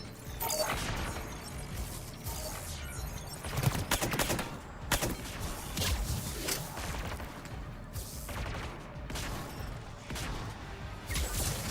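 Sniper gunfire and battle noise from the Mass Effect 3 video game, with repeated sharp shots and clattering impacts layered in a dense, continuous firefight.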